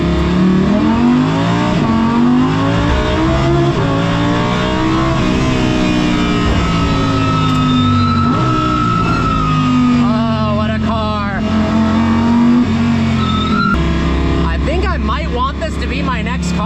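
An Audi R8 race car drives on a public street, its engine droning and rising in pitch through the gears with sharp revs and shift blips heard from inside the cabin, with a voice partly audible over the engine.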